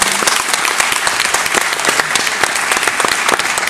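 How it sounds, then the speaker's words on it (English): Half-hearted audience applause at a live podcast taping aboard the JoCo Cruise, a dense but uneven spatter of clapping from the crowd with scattered individual claps standing out, steady throughout with no talk over it. "that's an appropriately half-hearted right applause"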